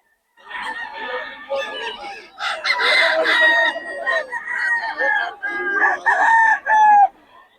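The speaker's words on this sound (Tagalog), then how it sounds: "Ating mga manok ngayon." Gamecocks being shown for sale in Pangasinan crow and cluck almost nonstop, several roosters calling over one another up close, with a voice talking underneath.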